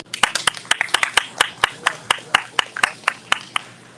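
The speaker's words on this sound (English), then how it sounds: "give them a round of applause." An audience claps at a county fair chamber coffee gathering, with sharp individual hand claps in a loose, uneven rhythm from a modest crowd. The clapping is fairly close and moderately loud.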